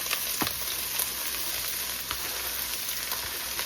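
Finely chopped vegetables frying in bacon grease in a pan, a close, steady sizzle with occasional sharper pops and crackles throughout, no talking.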